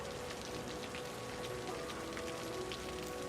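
Rain falls steadily in the city-building game Cities: Skylines, a soft continuous patter of drops with a faint tonal hum beneath, even and moderately quiet throughout.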